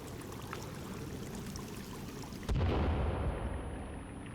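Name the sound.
holy hand grenade explosion in video game Sons of the Forest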